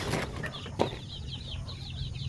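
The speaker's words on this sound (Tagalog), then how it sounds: "Dito yung isa na sisiw na galing talaga sa incubator ito." Incubator-hatched chicks peeping in a brooder, a run of thin high chirps repeating over a steady low background hum, with a brief louder bump partway through and no talking.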